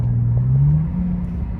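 Lexus GS engine revving up after a downshift from the steering-wheel paddle buttons, a steady low rumble with one rising pitch sweep heard from inside the car, no talk.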